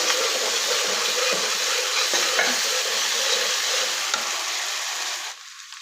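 Tomato puree stirred into a hot pan, giving a dense, loud sizzle with scraping stirs before the frying quiets near the end.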